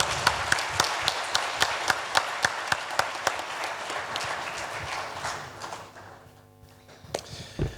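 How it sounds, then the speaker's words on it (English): A panel-discussion audience applauds, with sharp claps landing in a quick, even rhythm over a dense clatter. The clapping thins out and fades toward the end. "Can we have a big round of applause, ladies and gentlemen?"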